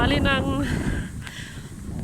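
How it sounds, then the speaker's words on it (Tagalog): Strong, gusty wind in winter cold by the Limfjorden in Denmark roars as steady broadband rumble through the microphone, with a voice speaking over it at the start. "Grabe, sobrang mahangin today."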